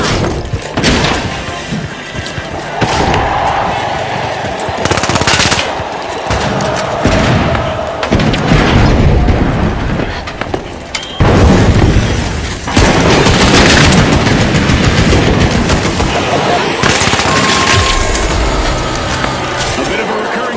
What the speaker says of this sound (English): Frag grenade out.